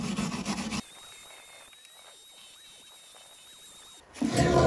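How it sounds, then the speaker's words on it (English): A small wire brush scrubs rust off the latch of a Kennedy toolbox, with a close, loud rasping burst at the start and another at the end, separated by a quiet stretch. "This little Kennedy latch here has got a little bit of rust on it, so I'm just gonna run over it here with this little wire brush."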